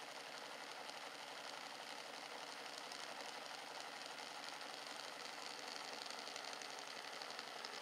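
A fast-spinning Bedini motor, a self-starting flyback pulse motor, gives off a steady, even, buzzy mechanical whir that holds for the whole stretch at low volume, with no voice over it.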